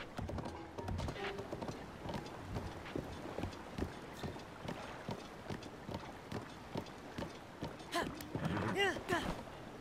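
A horse gallops in Zelda: Breath of the Wild, a steady run of quick hoofbeats close by that lasts the whole stretch, with game sounds swelling near the end.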